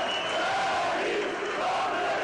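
A large crowd at a street rally in Ankara, Turkey, jeers President Erdogan and the ruling AKP party, a dense, sustained roar of many voices with rising and falling chanted tones and no pauses.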